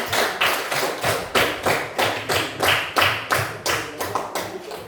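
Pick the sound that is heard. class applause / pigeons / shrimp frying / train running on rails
class applause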